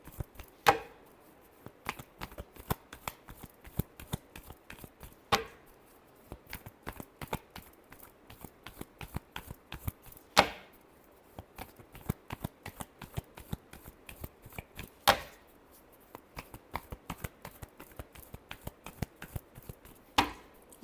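Tarot cards are shuffled by hand in close, crisp bursts of riffling flicks and soft slaps, with louder snaps recurring roughly every few seconds and no talking.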